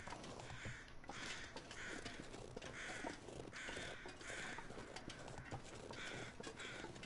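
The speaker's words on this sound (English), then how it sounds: "What are you crows out there crowing on about?" Crows cawing in the survival game The Long Dark, repeated harsh caws in a steady pattern over a continuous windy outdoor ambience, no talk.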